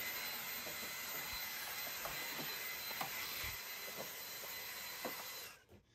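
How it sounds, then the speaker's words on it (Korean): A vacuum cleaner roars steadily with a loud, hissing airflow while sucking up dust around an air purifier, with faint knocks under it; the motor cuts off abruptly near the end. "우선 진공청소기로 좀 청소기 주변 좀 큰 먼지들 먼저 한번 좀 빨아드릴게요."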